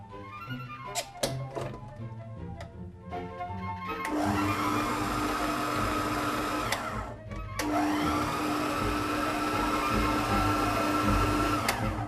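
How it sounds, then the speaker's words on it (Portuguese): An electric stand mixer beats cake batter, its motor whirring loudly in two long runs with a brief pause between, after some opening knocks and taps of bowl and ingredients. "Aqui na batedeira. Vamos colocar. E agora nós vamos bater e colocar os ovos um a um."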